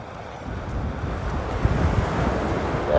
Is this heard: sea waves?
yes